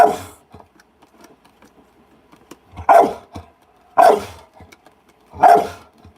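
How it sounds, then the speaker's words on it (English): A dog barks sharply three times at roughly one-second intervals, close and loud, after a faint yip at the start, with quiet pauses between. "Quiet! No! No barking. Quiet."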